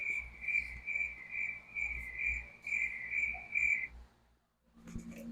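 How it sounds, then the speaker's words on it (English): Crickets chirp steadily in a continuous high, pulsing trill that runs for several seconds, then drops away, leaving a faint low rumble at the end. "Crickets."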